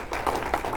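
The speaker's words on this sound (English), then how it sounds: "Round of applause, please." Short burst of audience clapping at a talk event, a few loose claps rising and falling over under a second, fairly close.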